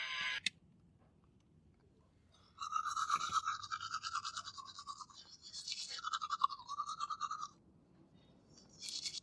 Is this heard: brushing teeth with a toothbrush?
yes